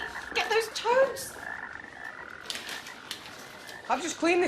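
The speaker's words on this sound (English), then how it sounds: "Why are the frogs all over it?" Toads croak loudly in quick bursts at the start and again at the end, with quieter croaks between, in a TV episode where they are loose indoors.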